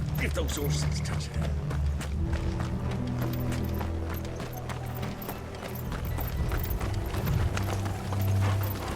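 Horse hooves clip-clop steadily in the fantasy action game Final Fantasy XVI, continuous and fairly loud beneath a dense bed of low rumbling music and battle ambience, with speech over it.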